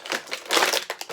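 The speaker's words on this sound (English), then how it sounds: "Crinkle, crinkle. Apologize for the noise." Close, busy crinkling and crushing of plastic packaging, rustling in irregular bursts with no voices.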